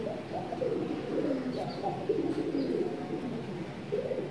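Racing pigeons coo softly in repeated low, rolling calls over a steady background hum, with no talking.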